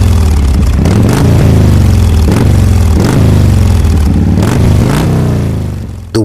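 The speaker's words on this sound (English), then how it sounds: "The roar of a revving motorbike." A motorbike engine revs repeatedly and loudly, its roar rising and falling in several surges before cutting off abruptly at the end.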